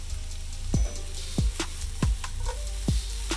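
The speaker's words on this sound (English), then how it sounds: "I'm gonna let the onions cook up just a little bit" Onions and chili flakes fry in a pan with a steady, soft sizzle, punctuated by a few sharp clacks of stirring or tossing.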